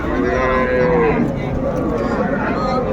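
A cow moos loudly and close by at a cattle market, one long drawn-out low call filling the whole stretch, with faint background noise behind it.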